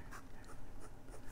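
Soft scratchy strokes from a fine conical nib on a 1958 Lady Sheaffer Skripsert fountain pen moving lightly across paper, several quick faint scrapes in a short, close burst.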